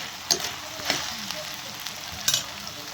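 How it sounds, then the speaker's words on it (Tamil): Ivy gourd kootu being stirred with salt in a pan, a soft continuous sizzle with a few sharp scrapes of a spoon against the pan. "உப்பு போட்டு நல்லா கலந்து விட்டுக்குவோம்"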